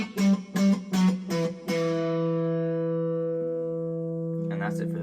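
An electric guitar picks a few quick, clipped notes, then lets one note ring out long and slowly fade, with a faint pick noise at the end.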